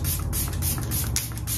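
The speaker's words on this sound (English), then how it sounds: "So I'm gonna spray this." Close, continuous hiss of a Dalba First Spray Serum facial mist spritzed in short bursts, part of a nighttime skincare routine, heard alone without talk.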